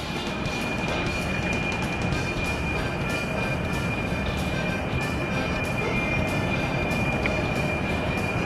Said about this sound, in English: That is our new light rail.